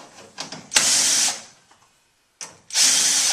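Power drill backing screws out of a gas furnace panel during repair, two close bursts of high whirring separated by short pauses and lighter clicks of handling, no talking.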